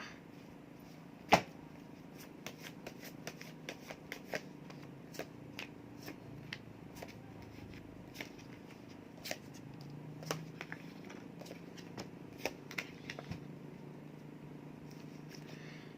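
Tarot cards being shuffled by hand: a steady run of soft, papery riffles and taps with a few sharper snaps, close and moderately quiet, with no one talking.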